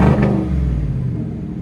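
A 2019 Ford F-150 FX4 with a 5.0L V8 and an open exhaust cutout lets out a short, deep rumbling rev close by, which fades quickly into a lower idle.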